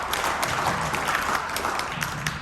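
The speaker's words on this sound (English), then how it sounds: "Give him a round of applause." An audience at a talk claps in a steady, dense wash of applause that holds evenly from start to finish, with no voices standing out.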